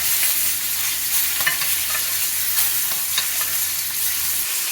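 Steak frying in a pan while being basted with butter, a loud, dense, continuous sizzle with occasional crackles and spits, close up and without voices.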